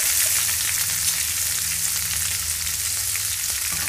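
Onion and curry leaves fry in hot oil with mustard seeds, a dense, steady close-up sizzle that holds unbroken throughout with no voices.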